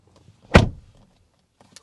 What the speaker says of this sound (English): Now, shutting up the door